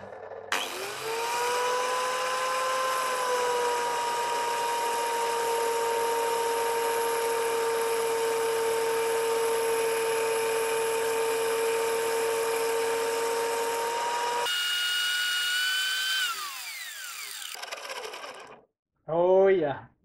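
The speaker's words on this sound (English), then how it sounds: "Here it is, angle grinder, the material, and now instead of cutting," Angle grinder grinding a metal shaft for a DIY line reel: a sustained high whine holds steady for about fourteen seconds, then dips in pitch as it winds down and stops, followed by a short final burst.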